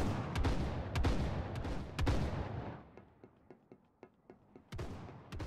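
Video game gunfire sounds in rapid loud bursts of shots and heavy booms, then thins to scattered single reports before another loud volley.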